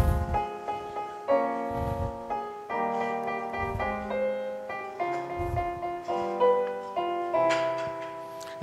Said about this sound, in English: all I could do was to play the music according to the sheet music, it would sound something like this.